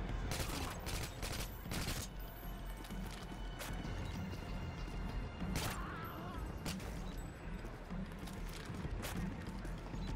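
Call of Duty Modern Warfare 2 gunfire crackles as scattered sharp shots and short bursts over a steady, busy background din, with no speech.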